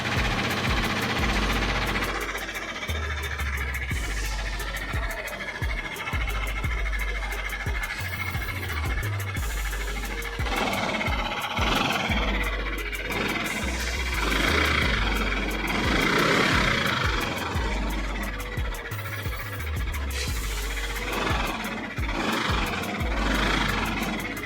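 A Yamaha Aerox 155 scooter engine running with a rough, harsh fault, a steady loud idle with uneven knocking and rattling bursts heard up close, and no one talking over it.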